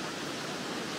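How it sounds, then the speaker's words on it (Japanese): Watagataki, a 32 m waterfall in Tedori Gorge in Hakusan, Ishikawa, roars as a steady, dense broadband rush of falling water, loud and unbroken throughout with no voices. "左側が綿ヶ滝、落差32メートル。"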